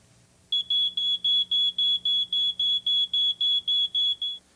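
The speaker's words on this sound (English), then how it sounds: "If your smoke alarm goes off" A smoke alarm sounds a steady run of about fourteen loud, evenly spaced high-pitched beeps, close and clear over a faint low hum.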